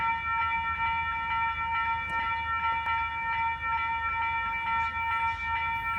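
A train passes the Fruitvale Road level crossing in West Auckland, a loud steady roll with a sustained ringing crossing-bell tone throughout and a couple of sharp clanks, close by and without talk.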